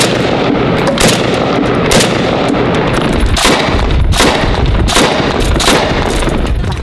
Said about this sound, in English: This is a shot by their sniper.